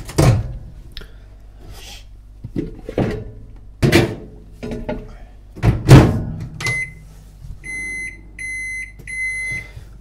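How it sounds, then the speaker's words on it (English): A microwave oven heats a protein bar mixture, giving a steady low hum while a person talks over it; near the end a series of sharp, evenly spaced beeps rings out clearly. "you're going to bang all this in the microwave for about 30 seconds"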